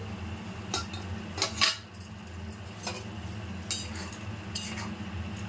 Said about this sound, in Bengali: আবারও ঢাকা সরিয়ে একটু নেড়ে চেড়ে নেব।